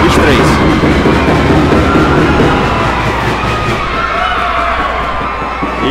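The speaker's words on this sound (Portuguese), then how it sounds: "E a torcida toda animada aqui aguardando para essa grande final" A large crowd at the 2023 school games final cheers and shouts loudly and continuously, with a dense wash of voices.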